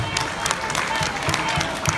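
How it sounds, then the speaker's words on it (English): Dense audience clapping fills the space at a youth baseball team gathering, with crowd noise mixed in. "give yourself a round of applause"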